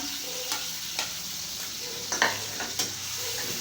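Chopped garlic and onion sizzle steadily in a hot pan, with occasional scrapes and knocks of a spoon stirring them, close and moderately loud throughout.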